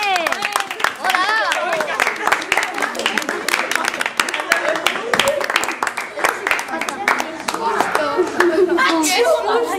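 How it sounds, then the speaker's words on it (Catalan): Applause and cheering from a school audience after a children's baking soda volcano experiment, a dense run of sharp hand claps lasting several seconds, with chatter, laughter and voices talking over it. "Un aplaudiment!"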